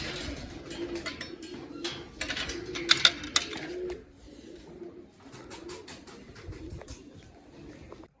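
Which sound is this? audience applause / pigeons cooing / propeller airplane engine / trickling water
pigeons cooing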